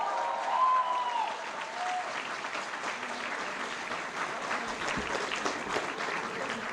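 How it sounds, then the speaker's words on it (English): Graduation ceremony crowd applauds the graduating class, a moderate, steady wash of clapping from a sizable audience with a brief whistle-like tone early on. "Let's give a big round of applause to the class of"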